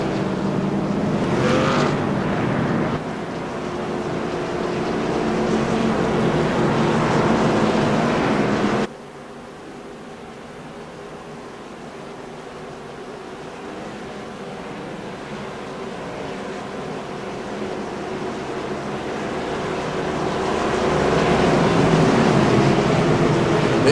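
Race cars at Richmond Raceway circle under caution behind a pace car, a loud continuous engine roar that cuts abruptly to a quieter distant drone, then builds again as the pack approaches.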